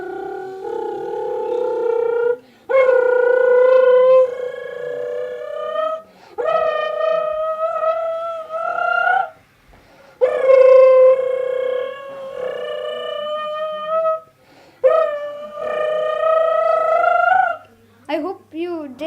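A human voice imitates a Lamborghini engine with long, loud, sustained revving hums that rise and fall in pitch, in several drawn-out bursts with short breaks.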